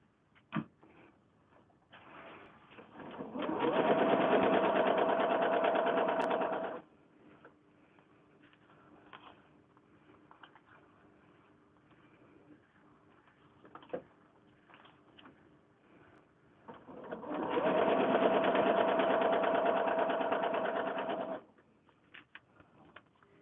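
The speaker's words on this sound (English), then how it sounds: "I'm going to just chain piece a few of these" Sewing machine chain piecing quilt blocks, two bursts of steady motor whirring about four seconds each, separated by quiet pauses with faint handling clicks.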